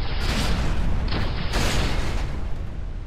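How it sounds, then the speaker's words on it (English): Medium meteors striking a space station in Space Station 14 set off explosions, a loud rumbling boom that rolls on continuously for a few seconds, with no talking. "if a medium meteor hits it directly, you can see the explosions get pretty damn close"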